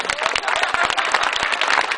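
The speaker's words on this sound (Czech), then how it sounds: "vy všichni velký potlesk" Crowd applause at a rally podium ceremony for the Orlické hory rally, with dense, steady clapping from many hands that sounds fairly close and continues throughout.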